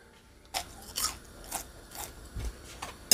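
Crunchy bites into fried roasted eggplant, about six crisp bites spaced roughly half a second apart, close and fairly quiet, with soft chewing between and no talk.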